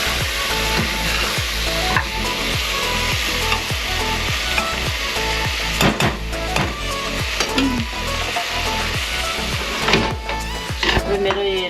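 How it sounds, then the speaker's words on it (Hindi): Tomato masala for a Tibetan-style home-made chicken curry sizzles and fries steadily in a pan, with repeated scraping stir strokes and occasional pot clatter throughout, loud and close. "अभी इसको थोड़ा सा मिक्स कर अच्छा से भून देगा"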